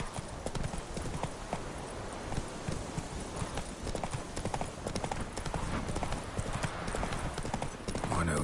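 Horse hooves clip-clopping at a steady trot in the video game The Witcher 3, a dense rhythmic patter of hoofbeats heard close, with game ambience and some talking over the top.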